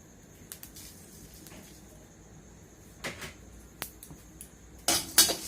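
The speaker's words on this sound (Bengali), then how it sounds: "সুন্দর করে নেড়ে চেড়ে ভেজে নিচ্ছি" Metal utensils scrape and clatter against a wok while spices and mustard seeds are stir-fried for mango pickle oil, in scattered bursts with quiet gaps between strokes and a louder clatter near the end.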